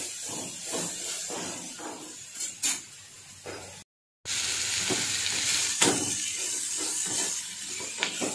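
Drumstick leaves and moong dal frying in a pan with onions, a steady crackling sizzle broken by clinks of stirring and a brief silent gap midway, close and alone without talk.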